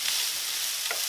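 Onions and garlic sweating in a pan give a steady, close sizzle of bright, hissing frying noise with a brief stir near the end, no voices over it.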